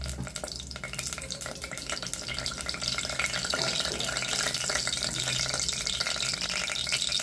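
Whole spices, cinnamon, cloves, fennel and cardamom, frying in hot oil for a tomato biryani, giving a steady, dense sizzle with fine crackling that holds continuously at moderate volume, slightly swelling partway through.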